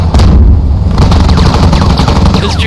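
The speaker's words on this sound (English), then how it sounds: "It's shooting at me, ah!" An enemy tank in a combat video game fires with loud, continuous heavy gunfire and booming blasts. The fire is close and rapid and keeps up for the whole stretch, with no voices.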